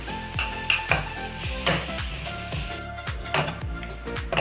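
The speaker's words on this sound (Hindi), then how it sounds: "ये देखें हमारा कीमा भुन चुका है" Keema mince frying in a pan with onion and green chili, a steady close sizzle with repeated scraping and stirring knocks of a utensil against the pot, no talk.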